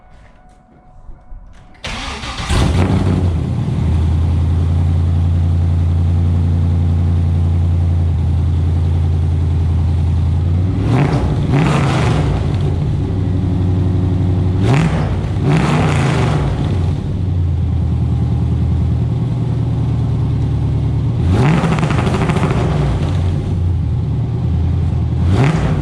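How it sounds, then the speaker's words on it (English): A 1998-2002 Chevrolet Camaro with newly installed headers and exhaust cranks and fires up, then settles into a loud, throaty idle broken by several sharp revs, each rising and falling back, close by and with no talk. "First test of the new exhaust."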